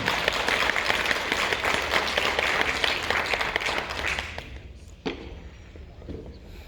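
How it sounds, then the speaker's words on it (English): Applause at a Los Angeles County Board of Supervisors meeting, a dense sustained clapping from a room full of people that fades out near the end, leaving a quiet room with a single thump. "Another big round of applause, won't you?"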